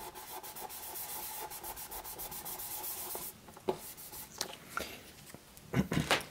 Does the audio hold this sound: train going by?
no